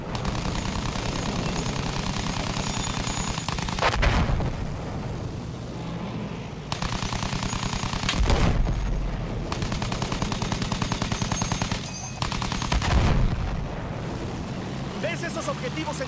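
Rapid aircraft machine gun fire in Battlefield 1, with several long bursts of fast, loud shots over a constant engine drone and a few heavier impacts, with no talk.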